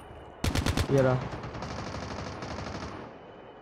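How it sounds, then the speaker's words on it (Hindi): Video game gunfire from Call of Duty: a rapid burst of about six loud, close shots followed by a heavier blast, then a lingering rumble under brief talk. "भाई कौन गोली चला रहा है, कौन गोली चला रहा है, कहाँ है?"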